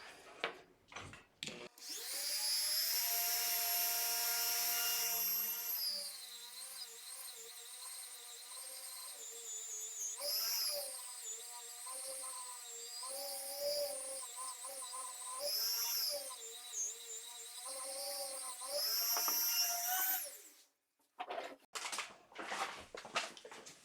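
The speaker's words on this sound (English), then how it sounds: "So we will go ahead and get to sanding this here." A power sander whines loudly against cedar for most of the stretch, pitch wavering as it moves, then stops and a few handling clatters follow.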